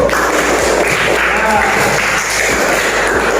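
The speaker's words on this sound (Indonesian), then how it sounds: "kita beri tepuk tangan untuk kelompok 1" Classmates applaud a student group after its presentation, a loud, continuous patter of clapping in a room that stays steady throughout.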